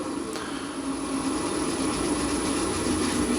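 A machine slowed to 300 RPM and throwing off shavings gives a steady, fairly loud mechanical drone with a low hum. It stays continuous from start to end with no talking.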